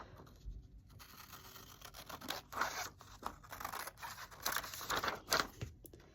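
Scissors cutting a piece out of a Trader Joe's chocolate wrapper for a journal, a run of close, quiet snips and crinkly paper rustles in an uneven rhythm.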